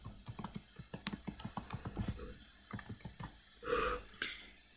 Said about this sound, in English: I provide the password.